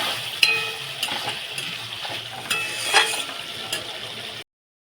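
Turmeric, tomato and spices frying in a pan, a steady crackling sizzle with occasional sharper scrapes and clinks of stirring, close and fairly quiet, ending abruptly in silence.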